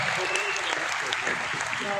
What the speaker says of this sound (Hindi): बस ये एक बार तालियां दे दीजिए